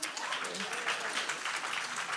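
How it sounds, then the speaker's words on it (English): Applause from a church congregation for Brenda during a Sunday morning worship service, a steady, dense wash of clapping filling the space at moderate volume, with some voices mixed in beneath it. "Clap it up for Brenda."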